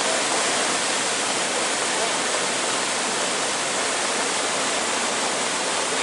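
A swollen, flooded river rushes loudly nearby, a thick roaring wash of water that stays steady and continuous throughout, with no pauses.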